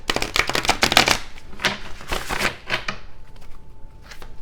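Oracle cards shuffled by hand up close, quick bursts of riffling and flicking that ease off midway, then a few lighter card taps.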